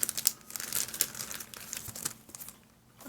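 Sticker sheets for card crafting are handled and sorted, giving close, irregular plastic crinkling and rustling with sharp bursts and brief pauses, no talking.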